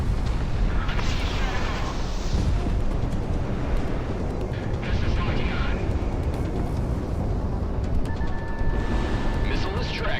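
Su-27 aircraft blowing up after a railgun hit in Project Wingman, rumbling explosions and jet roar under a constant dense din, with voices talking over it.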